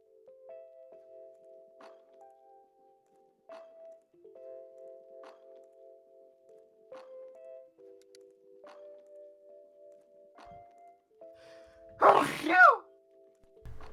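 A single loud sneeze bursts out near the end, close and sharp, after a long stretch of soft tonal game chimes and quiet background beeps.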